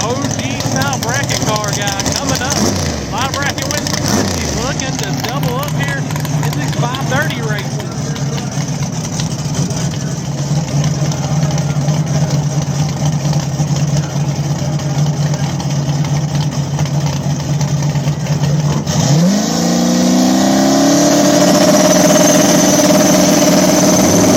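A turbocharged LS-powered small-tire outlaw drag car at Mooresville runs with a loud, sustained engine drone and a rising rev near the end, while an announcer talks over it.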